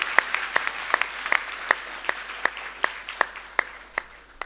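Audience at an all-India Hindi poetry gathering (kavi sammelan) in Sarwania Maharaj claps in a thin, fairly regular patter, individual hand claps distinct over a faint background, continuing for several seconds.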